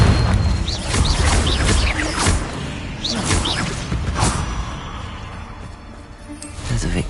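Confringo blasting-spell explosions in Hogwarts Legacy: a series of booming blasts with whooshing tails, several bursts in quick succession, loud and close, fading toward a quieter end.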